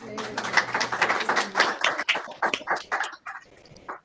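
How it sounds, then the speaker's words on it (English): A seminar audience of students claps, a brisk burst of hand claps that thins out toward the end, mid-distance, with a few voices mixed in. "We actually get to hear clapping as opposed to all our virtual muted clapping."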